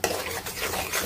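Spoon stirring ground spices such as turmeric, coriander and chili powder in a cooking pot over a low flame for a small-fish curry, a steady close scraping and clinking with faint sizzling, no voices.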